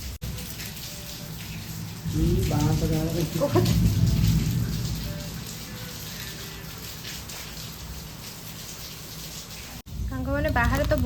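Heavy rain pours down outdoors as a dense, continuous hiss that swells and stays loud, with voices briefly heard beneath it.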